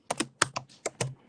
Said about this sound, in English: I hear the keyboard going, typing away.